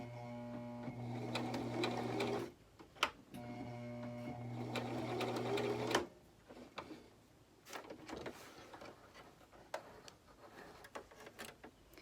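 A sewing machine stitches a fabric face mask in two loud, close bursts of rapid mechanical whirring, each a couple of seconds long, followed by quieter handling clicks and fabric rustle.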